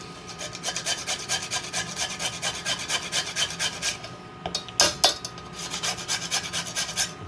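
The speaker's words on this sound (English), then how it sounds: "Then I add my nutmeg. Let me get 1. I'll grind about I'd say a half teaspoon." Whole fresh nutmeg is grated by hand for a berry cobbler, giving quick rhythmic rasping strokes, fairly close and quiet, with a brief pause and a couple of heavier scrapes near the end.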